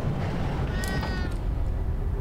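A cat in a video game gives one drawn-out, fairly faint meow over a steady low droning ambience.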